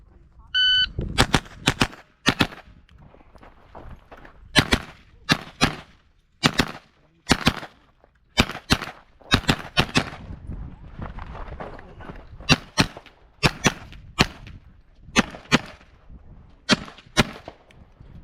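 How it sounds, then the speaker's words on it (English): A Kel Tec CP33 pistol fires at a rifle match stage in sharp, loud shots. They come in quick pairs and short bursts with brief pauses between targets, and a beep sounds at the start. "I was able to keep the pace of shooting at each target"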